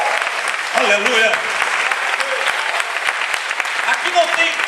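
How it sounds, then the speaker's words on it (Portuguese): Loud sustained applause from a packed church congress audience, a dense continuous wash of clapping with some cheering and raised voices mixed in throughout. "Dê um forte aplauso ao Messias por isso."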